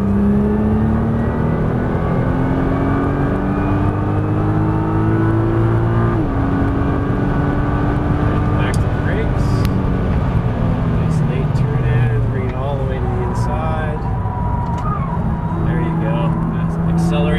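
A Nissan GT-R accelerates hard on a Las Vegas racetrack, its engine a loud, sustained roar with harmonic tones climbing and shifting through gear changes, recorded close from the cabin.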